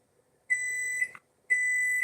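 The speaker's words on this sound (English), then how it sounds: "Oh, that's the timer." A kitchen timer gives two sustained electronic beeps, each about half a second long and separated by a short silence, clear and close with no talking.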